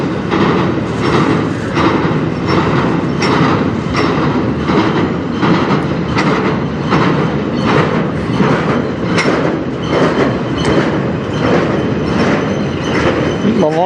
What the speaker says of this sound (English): It's not that the train is long, it's just that it goes by so slow.